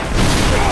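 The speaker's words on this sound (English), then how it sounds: "And there goes a rocket." Rocket launch in the video game Resident Evil 6, a loud, dense blast of roaring noise that fills the whole brief moment without letting up.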